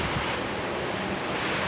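Wind blows steadily on a rainy night as a dense, continuous roar close to the microphone, with no pauses and no voices.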